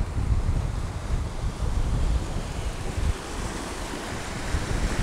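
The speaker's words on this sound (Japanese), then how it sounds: "ここからザバーっといくその勢いはより強く感じられているのではないかと思います" A strong tidal current rushes through a narrow rocky sea strait where whirlpools form, a loud, continuous roar of churning water mixed with wind buffeting the microphone, with no voices.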